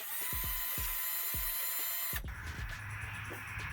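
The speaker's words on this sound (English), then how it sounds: "I want to drill this out just slightly larger." A power drill bores out a stripped bolt hole in short bursts, then runs in one steady whirring pass under light clatter.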